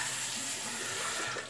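Water runs steadily from a bathroom tap into a sink to rinse a slant open-comb safety razor during a shave, a close, even hiss and splash that stays unbroken throughout.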